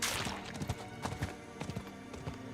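Horse hooves clip-clop in Diablo IV, a steady run of sharp, fairly close hoof strikes repeating in an uneven gallop-like rhythm over low game ambience, with no talking.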